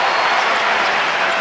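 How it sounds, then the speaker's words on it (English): Basketball crowd applauding in an arena, a dense steady wash of clapping from many hands at close range for the full short stretch. "so the crowd's giving him a nice round of applause"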